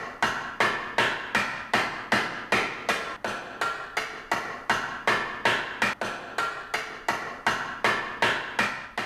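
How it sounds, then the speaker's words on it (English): A ball-peen hammer shapes a flat copper sheet on a wooden forming block, striking in a steady, even rhythm of about two blows per second, each a close, loud metallic knock with a short ring, with no one talking. "Hammering begins on a wooden forming block using a ball-peen hammer"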